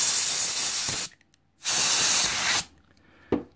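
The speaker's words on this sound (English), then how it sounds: "And I'm just going to take some forced air" Two loud bursts of compressed air blast into the pivot of a QSP folding knife, each about a second long with a short gap, followed by a brief faint puff.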